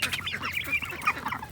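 Ducks quack near a pond on a small free-range farm, a busy cluster of overlapping nasal calls at close range with no talking.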